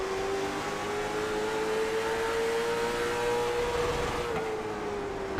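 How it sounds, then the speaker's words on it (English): A race car at Langley during a Twin 75s race drives into turn 1. Its engine holds a loud, steady drone with a sustained tone that rises and falls slightly, and no one speaks. "You can hear that car hitting the chip."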